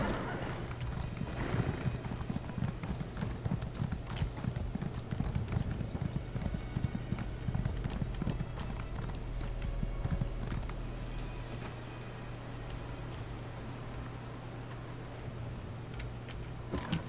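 Horse hooves clip-clop at a steady trot in the video game Elder Scrolls Online, set in Western Skyrim. The rhythmic thuds carry over a low ambient hum before easing off, with a whinny-like tone and faint game sounds.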